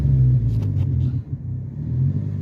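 A manual-transmission car still in second gear, its engine giving a steady low rumble from inside the cabin with a slight rise in pitch.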